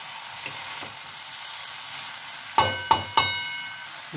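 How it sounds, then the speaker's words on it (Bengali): Malabar spinach curry being stirred in a pan over low heat, a faint low sizzle running underneath as a utensil knocks sharply against the pan several times, three quick clanks coming close together near the end. "অল্প আঁচে করলে ভালো করে নেড়ে দিলাম।"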